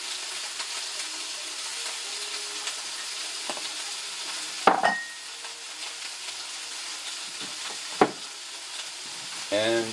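A little ginger stirred in a frying pan while cooking a simple Christmas Eve dinner, with a quiet steady sizzle and a few sharp utensil clinks against the pan, close by.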